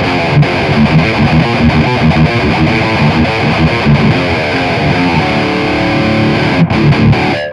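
Heavily distorted electric guitar through a Flamma FX200 multi-effects unit on its Cali Rec distortion setting plays a dense, continuous run of metal chords and riffs, loud and saturated throughout with no voices.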